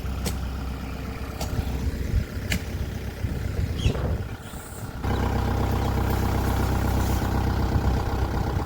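A tractor engine runs with a steady low idling rumble that grows louder and fuller about halfway through.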